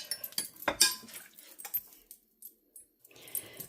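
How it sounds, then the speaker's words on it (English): A spoon stirs onion into a lima bean casserole mixture, making sparse, faint clinks and scrapes against the dish in irregular bursts separated by near silence. "We're still stirring."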